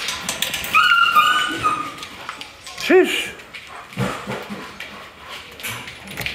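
German shepherd mothers and puppies whimper and yip in a kennel, high thin whines and short yelps rising between people talking nearby.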